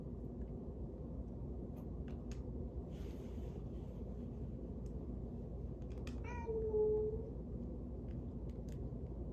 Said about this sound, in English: I hear Miss Kitty in the background.